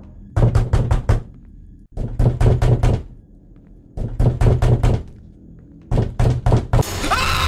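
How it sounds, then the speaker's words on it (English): Four loud bursts of rapid, heavy door knocking in a horror video game, each a quick cluster of five or six hard thuds, separated by short pauses and ending in a burst of harsh noise. "He's knocking on the door."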